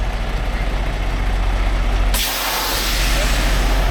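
A parked semi truck's air brakes set with one sudden, loud hiss of released air that cuts through a steady low diesel idle and keeps hissing for a second or two.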